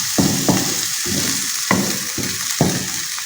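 Fenugreek leaves frying in a pan for a methi paratha, a steady hiss of sizzling broken by sharp scraping stirs at regular intervals, close and fairly loud, with no voices.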